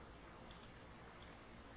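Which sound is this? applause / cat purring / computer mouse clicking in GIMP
computer mouse clicking in GIMP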